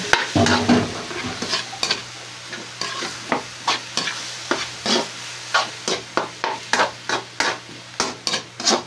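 Shrimp paste (alamang) sizzling in a pinakbet pot, a constant frying hiss broken by regular scraping stirs that come faster and more evenly toward the end.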